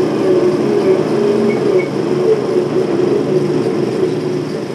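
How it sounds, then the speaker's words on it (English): An AEC four-wheel-drive coal board dumper truck pulls away from a standing start during trials at Arkwright Colliery, its engine a loud, continuous, close droning rumble that holds steady throughout. "The 4 driving wheels of the AEC get it away easily from a standing start."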